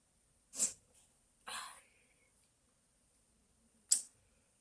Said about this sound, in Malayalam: ഞാനിത് ഇടുമ്പോ ഒക്കെ തുമ്മുണ്ട്